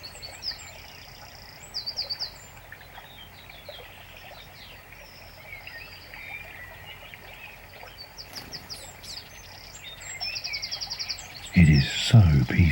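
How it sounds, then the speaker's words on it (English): Birdsong rings out around an outdoor spot beside a natural stream, with scattered chirps and calls over a soft continuous trickle, and a louder burst near the end. "The only sound you can hear is the pipe of birdsong all around you"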